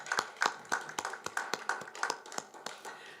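Congregation clapping in unison at a Christmas Day church service, roughly a dozen sharp, evenly spaced claps in a steady rhythm, close and distinct with no talk.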